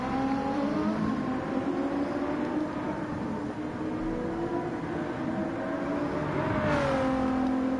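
A Porsche race car engine in Gran Turismo 7 at Interlagos drones steadily, its tone shifting as it passes, with a brief rising whoosh near the end.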